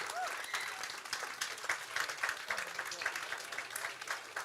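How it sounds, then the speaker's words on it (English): Crowd at a 2025 WIAA Division 1 high school baseball sectional final between Eau Claire North and Hudson applauds both teams, a steady patter of clapping with scattered cheers throughout, under a commentator's voice. "Both teams getting a well-deserved round of applause."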